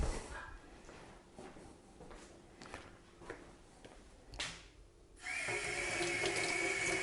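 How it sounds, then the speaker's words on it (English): Tap water running into a sink while a pH meter is rinsed during a brewing batch, with scattered clinks and handling noises before a steady close stream of water takes over. "Just rinsing the meter"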